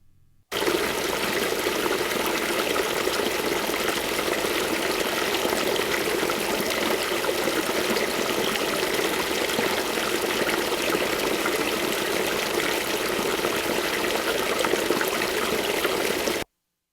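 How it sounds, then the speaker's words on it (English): Creek off the Swift River in the White Mountains rushes steadily in a dense, unbroken wash of flowing water, recorded outdoors with no voices. "That is from the White Mountains. I recorded that. It was a creek off of the Swift River"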